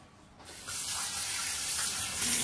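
Jackfruit is washed under a running tap: water starts after a brief quiet moment, then flows in a steady, broad rush that gets a little louder toward the end, close by and with no speech.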